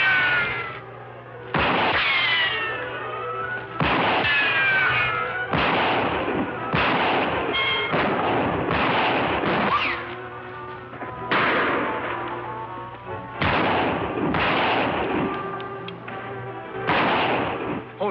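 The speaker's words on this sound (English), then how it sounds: "Shots aren't coming from the same direction." Repeated gunshots ring out from a 1949 western TV episode, a dozen or so loud, echoing cracks spaced a second or two apart, each trailing into ricochet-like whines over a low steady hum.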